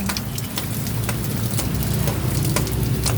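Heavy rain pours steadily onto a surface during flooding, a dense continuous hiss with scattered louder drops, close and loud throughout.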